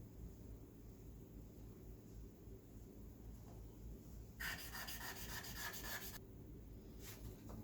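A stone facet is rubbed against 400 grit abrasive, giving a quiet scraping hiss that rises into a louder, rhythmic sanding stretch near the middle before fading again.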